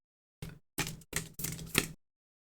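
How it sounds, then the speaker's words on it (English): A deck of cards being shuffled by hand in four quick bursts of rapid riffling and flicking, close and crisp against silence, with no talking. "I'm going to shuffle to get a few cards here."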